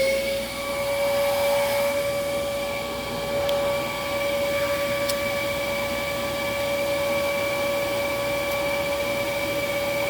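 Dyson DC11 vacuum cleaner running steadily with its hose held down during an airflow test, a loud continuous motor whine with strong tonal hum, unbroken and with no talk.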